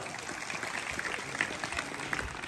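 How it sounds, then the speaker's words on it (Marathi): An audience claps at a Home Minister stage show in Dasur, a steady dense patter of applause with the crowd at a moderate distance. "एकदा मधुकर बापू सावंत यांच्यासाठी जोरात टाळ्या वाजवा"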